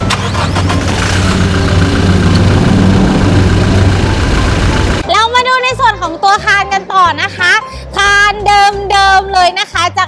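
A 2019 Toyota Hilux Revo 2.4 Entry Prerunner Cab diesel idles loudly and steadily with a deep, even drone for about five seconds. After that, someone talks over it.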